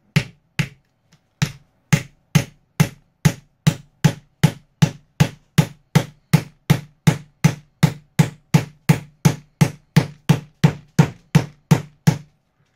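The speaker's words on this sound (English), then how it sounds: "we will tap it the rest of the way in." A hammer taps a stubborn part into a wooden Thor chariot kit, roughly thirty sharp, close knocks in a steady even rhythm after a few scattered opening hits, with no talking.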